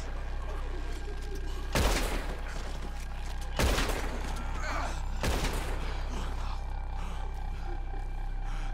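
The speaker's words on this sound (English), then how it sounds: "Shoot the ropes." Red Dead Redemption 2 gunfire while shooting at ropes: three loud, separate gunshots spaced about two seconds apart over a steady background hum and ambient game noise.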